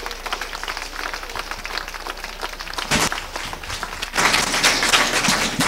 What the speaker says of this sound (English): Another round of applause for the Owens Brothers Band,